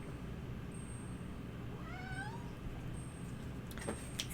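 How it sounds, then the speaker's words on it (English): A small, squeaky meow from a cat, a single brief rising call, faint against a quiet background hiss. "If you heard a little squeaky meow there, that was the cat"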